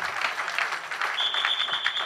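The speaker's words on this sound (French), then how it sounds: "Applaudissez pour le Seigneur." Scattered clapping from a church congregation during a Sunday morning service, moderate and uneven, with a steady high whistle or feedback tone joining partway through.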